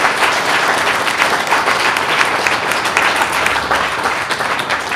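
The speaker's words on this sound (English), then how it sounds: "let's give a round of applause to the mentors" Sustained round of applause from an audience at an engineering-competition final presentations event, dense, steady clapping with no voices over it.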